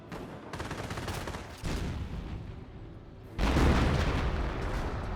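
Tank gunfire in Company of Heroes, a steady rumble of battle that swells with a heavy boom about two-thirds of the way through, loud and close, with no talk.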